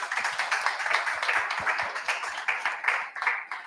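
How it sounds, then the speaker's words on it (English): Audience applause for the panelists at a gaming-industry tech event, a moderate crowd clapping steadily with a mix of close, crisp claps and softer ones further off, no voices over it. "a round of applause for our panelists"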